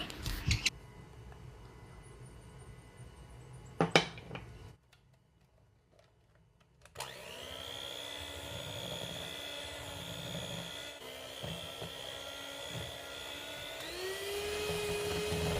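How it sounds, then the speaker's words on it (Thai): Electric hand mixer beating butter cream with wheat flour and milk powder for crispy butter bread, a whirring motor that stops briefly, then restarts and runs steadily with a rising pitch near the end. "จากนั้นก็ปั่นรวมกันอีกครั้งนะคะ"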